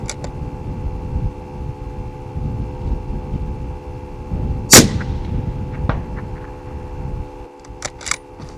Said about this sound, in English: One more shot.